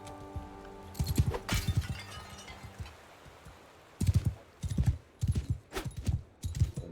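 Horse hooves clip-clopping in uneven bursts in the Mount & Blade II: Bannerlord video game, sharp close thuds in two clusters separated by a quieter stretch, with no voices.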